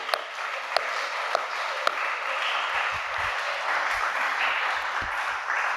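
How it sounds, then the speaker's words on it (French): A church congregation applauds the word of God, a broad, even roar of many hands clapping at moderate distance, with a few sharp metallic pings early on. "Nous acclamons la parole de Dieu"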